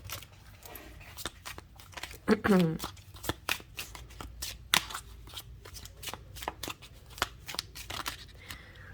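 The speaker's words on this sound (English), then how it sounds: "let's just shuffle live our little romantic fairy message" Tarot cards are shuffled up close in rapid, crisp riffling flicks that repeat steadily, with a brief vocal murmur partway through.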